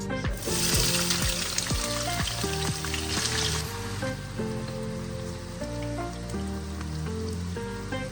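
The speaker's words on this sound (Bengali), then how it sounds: "এখন আমি এখানে আমার পেঁয়াজ কুচি দিয়ে দেবো।" Chopped onion fries in hot oil with cinnamon, cardamom and bay leaf, a steady loud crackling sizzle that settles slightly after a few seconds, with no talking.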